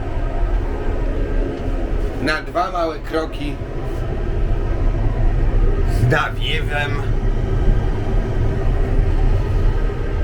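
Steady low rumble and airflow from a moving passenger train, heard from inside its onboard toilet with a constant hum throughout, as someone speaks Polish over it.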